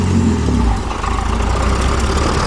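A Pontiac Fiero V6 idles at close range, a steady rumbling engine note with a slight dip partway through, no talking.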